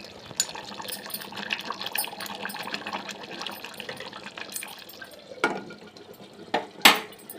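A lid goes onto a pot of simmering chicken curry, with soft bubbling and faint clatter leading into a few sharp metallic clanks near the end, the last one loudest.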